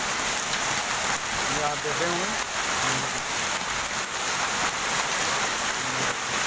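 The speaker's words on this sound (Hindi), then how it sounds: "देखिए किस तरह से ओले पड़ गए" Hail falls hard in Delhi, pelting surfaces and a banyan tree in a dense, continuous patter while someone talks over it.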